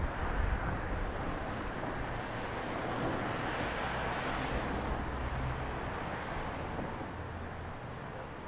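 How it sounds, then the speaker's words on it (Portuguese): Strong wind buffets the open ground at Madeira Airport, making a continuous broadband rush with low rumbling gusts that swells and fades over several seconds. "O vento está cada vez mais forte."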